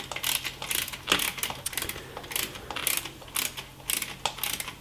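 Rapid metallic clicking from a ratchet tool tightening a nut on the shock mount of a Brompton folding bike with a MiniMOD Wave shock, coming in repeated bursts of quick strokes, close and fairly loud, with no talk.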